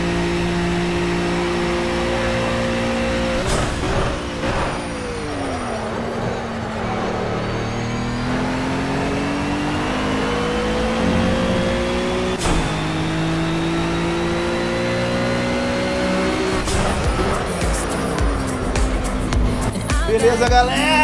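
A Cadillac GT3 race car in Project Cars howls around Mount Panorama, its engine loud and close, rising through the gears with sharp shift breaks and long high-revving pulls.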